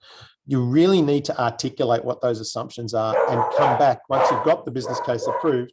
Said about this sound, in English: Apologies about the dogs.